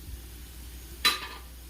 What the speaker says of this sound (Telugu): సో ఈ రెండింటిని బాగా మిక్స్ అయ్యేట్టుగా బాగా ఫ్రై అయ్యేట్టుగా చేసుకుందాం